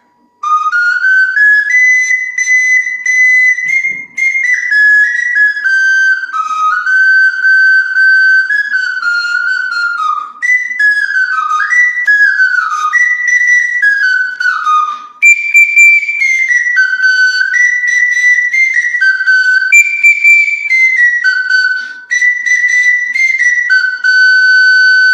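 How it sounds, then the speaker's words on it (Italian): A Sicilian friscaletto plays San Michelata, a shrill, breathy folk tune of quick stepping phrases and trills, loud and close, played alone and almost without a break for about twenty-five seconds. "Ora per ascoltare la San Michelata."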